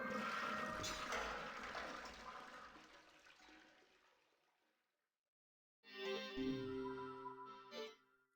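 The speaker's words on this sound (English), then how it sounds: "Now we look at the toilet and flush the toilet." A toilet flushing in the video game Killer7, a rushing water swirl that fades out over several seconds, followed after a pause by a separate tonal game sound effect.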